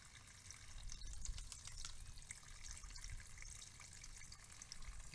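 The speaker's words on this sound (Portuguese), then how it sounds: "Olha lá, saindo mais água." Water runs out into the filter system of a fish pond built from a water tank, a soft continuous trickle and splash with scattered drips, fairly quiet and steady.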